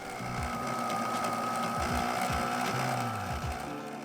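A sewing machine stitches Velcro onto a catamaran boat bimini, a continuous close mechanical whirr with a rapid needle rhythm and small pitch shifts as the speed changes, steady and loud throughout.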